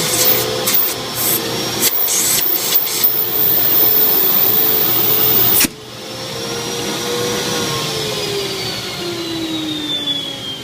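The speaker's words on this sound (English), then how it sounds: "It's kind of loud. It's really not that loud. It's just noisy. It's got mufflers on it." Central vacuum system with mufflers, a cyclonic unit with a large HEPA filter, running with a steady, loud rushing whine. Partway through the tone drops and shifts as the suction load changes, and no one talks.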